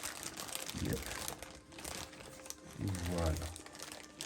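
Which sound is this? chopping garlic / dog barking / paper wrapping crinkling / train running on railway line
paper wrapping crinkling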